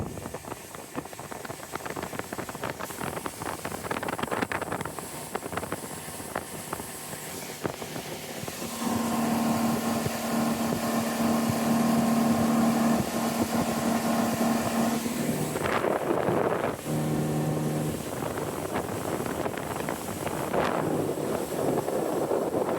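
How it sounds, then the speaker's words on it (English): Steady west wind buffeting the microphone, with the engine of a boat carrying a heavy lumber load droning in the middle stretch; a continuous, fairly loud rushing with no voices. "Wind's coming out the west, pushing the boat quite aggressively actually."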